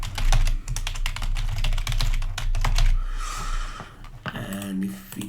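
Rapid, close computer keyboard typing as text is entered in After Effects, a dense run of sharp key clicks followed by a short pause and a few more keystrokes.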